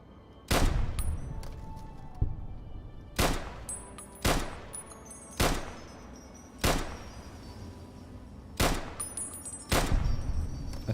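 Video game gunfire from shooting at enemies, seven loud separate shots spaced a second or two apart, each a sharp crack with a booming tail that fades before the next, near and clear with no talking.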